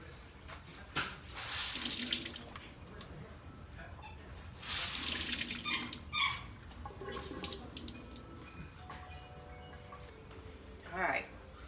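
A tie-dyed shirt is rinsed under a running tap at a sink, with water splashing and gushing in bursts that rise and fall, a person talking intermittently over the flow.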